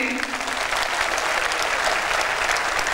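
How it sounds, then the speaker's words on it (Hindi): An audience claps steadily and loudly at a political rally, dense applause filling the whole stretch close by. "इतनी ताली बजेगी तो रिकॉर्ड में आएगी"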